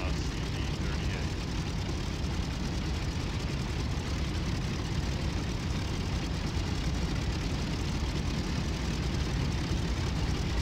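A North American AJ Savage carrier aircraft in a flight simulator, set aboard the USS Shangri-La, gives a steady, dense engine drone that holds even and unbroken throughout.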